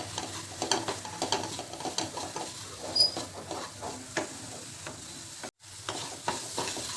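A spoon scrapes and stirs a sticky mixture of grated carrot, sugar and cardamom powder for modak stuffing in a pan, producing soft rhythmic scraping with a faint sizzle, close and quiet with no talk.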